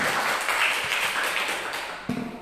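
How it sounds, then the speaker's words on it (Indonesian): Audience applause at a student faculty council election debate at a university, a dense patter of many hands that fades toward the end. "Boleh tepuk tangannya."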